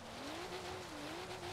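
A car spins a donut in the racing game Forza Horizon 3, with a steady droning engine tone that wavers in pitch and broadband tire noise running continuously throughout the moment.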